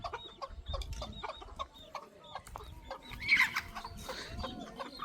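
Chickens clucking in a village home yard on Eid day. Repeated short clucks come at an uneven rhythm, fairly close, with a slightly louder squawk in the middle. No talking is heard.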